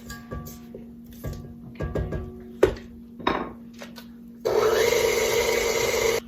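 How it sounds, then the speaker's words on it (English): A stand mixer with a paddle working sweet potato bundt cake batter: a few clanks and knocks against the bowl, then the motor kicks in with a loud, steady whirr to the end. "there's always something at the very bottom of the mixer that just doesn't get hit by the paddle"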